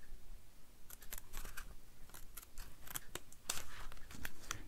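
Scissors cutting paper check envelopes, a series of quick crisp snips and rustles, close and fairly quiet, with no talking.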